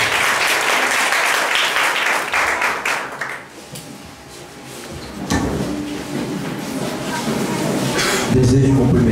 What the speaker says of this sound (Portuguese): As palmas do louvor.